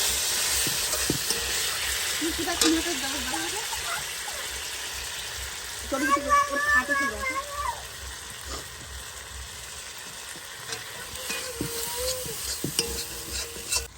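Spice paste frying in a pan, a steady soft sizzle with scraping stirs throughout, interrupted now and then by brief voice-like tones.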